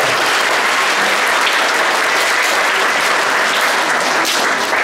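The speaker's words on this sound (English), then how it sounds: "Another round of applause" Loud, sustained applause from a school concert audience for sixth-grade student performers, dense clapping filling the whole stretch without letup.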